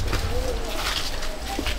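Pigeons coo softly inside a large village pigeon loft, low murmuring calls rising over a steady background hum, with faint voices nearby.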